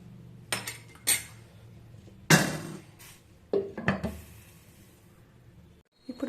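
A metal lid comes off a pot of cooking upma amid several sharp clanks and scrapes of cookware, loud, close and irregular, with quiet gaps between the clatters and no talking.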